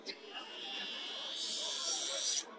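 A Bosch battery-powered crimping tool, rated around 60 kN, presses a crimp onto a cable with a steady, high-pitched motor whine that holds for about two and a half seconds, then stops abruptly.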